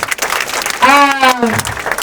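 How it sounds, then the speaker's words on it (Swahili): A church congregation bursts into brief applause while welcoming a guest, with dense clapping mixed with crowd noise and a voice carrying a sustained sung or shouted tone over it. "so tumpigie makofi"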